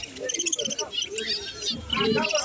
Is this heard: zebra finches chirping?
yes